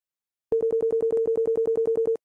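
An electronic telephone ringing tone from the Maniac Mansion video game: a rapid, even train of about fourteen short identical beeps, loud and clear with no other sound.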